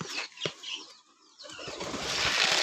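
Released pigeons burst into flight with a brief flurry of flapping wings, a short lull, then a louder rushing whoosh of many wingbeats building close by.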